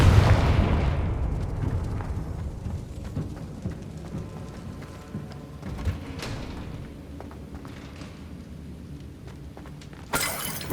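Confringo spell blast in the Hogwarts Legacy video game: a loud, bursting explosion with rumble that fades into crackling debris, followed by another sharp burst near the end.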